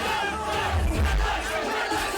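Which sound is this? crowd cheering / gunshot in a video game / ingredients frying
crowd cheering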